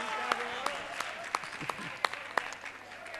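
Faint, evenly spaced handclaps, about seven in three seconds, come from an audience at a Punjabi poetry festival in Lyallpur, with a quiet hall murmur underneath.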